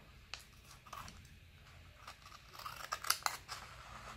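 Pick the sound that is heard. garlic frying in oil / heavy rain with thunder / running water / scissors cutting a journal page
scissors cutting a journal page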